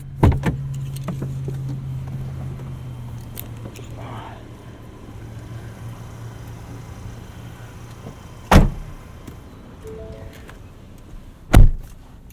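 Exiting a 2019 Ford Ranger Supercab 4x4 Lariat: a low hum fades under quiet cabin shuffling, then two sharp, loud door clunks, one after the other a few seconds apart.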